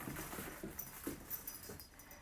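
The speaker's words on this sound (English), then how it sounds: "Puppies are such pests sometimes." A puppy whimpers and pants softly nearby in short, uneven whines and breaths, with faint pattering, fairly quiet overall.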